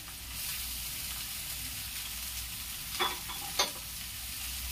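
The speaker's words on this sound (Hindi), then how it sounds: "अब इसमें मैं बीन्स डालूंगी और गाजर।" Beans and carrots hit oil in a pan while cooking pasta, giving a steady close sizzle with a couple of brief scraping stirs near the end.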